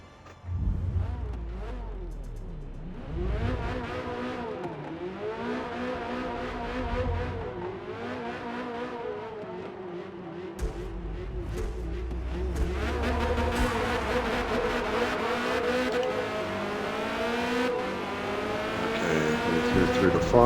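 Corvette C8.R race car in a racing video game at Silverstone, its engine droning loud and steady, rising and falling in pitch through gear shifts and corners, with a recurring low rumble and the revs building toward the end.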